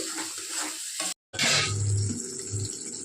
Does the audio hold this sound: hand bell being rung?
no